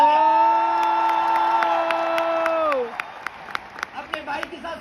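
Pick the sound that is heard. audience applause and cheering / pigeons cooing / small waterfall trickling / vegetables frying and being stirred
audience applause and cheering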